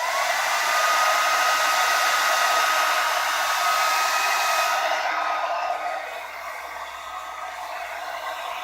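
A Revlon hair dryer blows with a loud, steady whooshing roar and a faint motor whine, its airflow tone shifting and softening slightly partway through.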